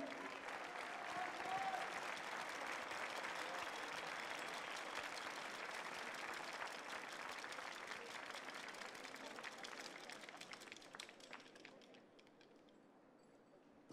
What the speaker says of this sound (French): On peut applaudir l'équipe des États-Unis.